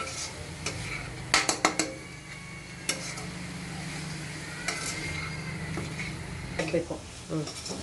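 Fresh ginger frying in a pan for chicken pickle gives a low, soft sizzle, while a ladle stirs and taps sharply against the metal in scattered clicks, close by.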